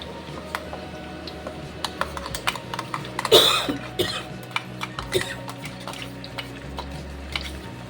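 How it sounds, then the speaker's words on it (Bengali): A cough breaks out amid batter preparation for a biscuit cake, a single harsh burst standing out above faint kitchen clatter, scattered ticks and light stirring. "এখনের কাশি যেন হলে আর কমতেই চায় না।"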